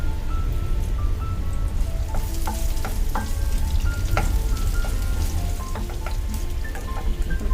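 Mustard, coriander and cumin seeds frying together in a pan for a coriander-mint chutney, a constant close sizzle with scattered sharp pops and crackles, no voices.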